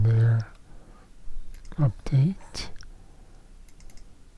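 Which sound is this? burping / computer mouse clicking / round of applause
computer mouse clicking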